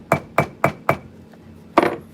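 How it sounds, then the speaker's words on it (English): A hammer strikes thick vegetable-tanned leather to flatten it for a two-tone tote bag, landing four evenly spaced sharp blows, then a short pause and a fifth hit, close and fairly loud with no talk. "I'm just going to take my hammer"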